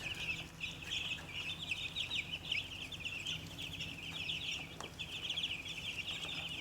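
A flock of 125 meat chickens clucks and chatters continuously at a steady, moderate level, with a constant low hum underneath.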